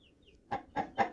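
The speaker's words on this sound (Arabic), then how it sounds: "الفراخ البلدي اللي حضرتك بتربيها في البيت" Domestic backyard chickens clucking close by, three short evenly spaced clucks in quick succession after a faint chirp, each a brief throaty burst.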